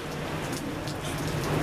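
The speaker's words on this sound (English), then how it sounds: "it's pouring down rain." Steady downpour outdoors in a garden, a continuous close wash of raindrops pattering on leaves and ground at an even level.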